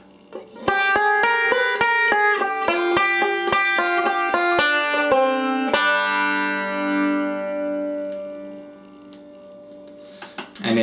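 Banjo playing a slow bluegrass melodic lick, fretting the fifth string: a run of distinct plucked notes at a steady, deliberate pace, ending on a ringing, sustained chord that slowly decays, played alone and up close.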